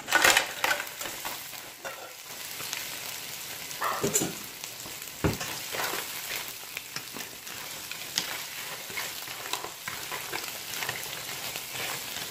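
Crab stir-fried in a hot pan, a steady close sizzle broken by repeated scraping and clattering strokes of the utensil, loud throughout with no talk.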